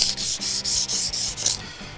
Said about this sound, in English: I am sanding it to make sure the paint sticks